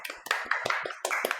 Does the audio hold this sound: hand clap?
yes